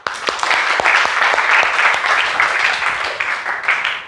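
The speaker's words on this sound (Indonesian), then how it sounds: "Tepuk tangan dulu." A classroom group claps in loud, sustained applause during a badminton lesson, a dense patter of hands that holds steady for a few seconds and then tapers.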